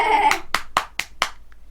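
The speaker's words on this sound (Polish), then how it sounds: "już koniec tych klasków, już koniec" Hand clapping: five or six sharp, evenly spaced claps, close and fairly loud, following a short burst of tonal sound, then a faint tap as the applause stops.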